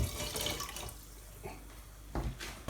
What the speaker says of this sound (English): I'm now going to pour this into the fermentation vessel with all the other ingredients.